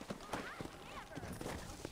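Horse galloping in the Red Dead Redemption video game, a quick, steady clip-clop of hooves with a brief whinny, heard close under voices.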